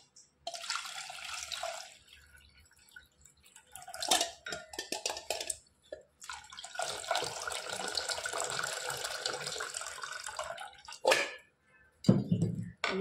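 Cold water poured into yogurt in a pot, heard as bursts of running, splashing water with brief pauses and a clink of the pot near the end.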